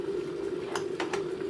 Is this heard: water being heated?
yes